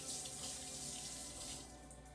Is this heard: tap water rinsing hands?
yes